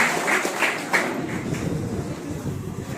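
Crowd applause at a Chhattisgarh Youth Congress political event, a steady, moderately loud mass of clapping with a few sharper claps standing out near the start.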